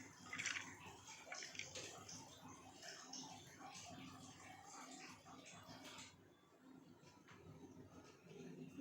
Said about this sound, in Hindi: किसका आवाज़ आ रहा है ये पानी का? रुको मैं जाके देखता हूँ बाथरूम में।